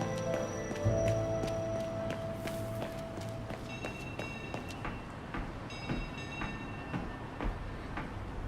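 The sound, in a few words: tram ride, from video game Syberia The World Before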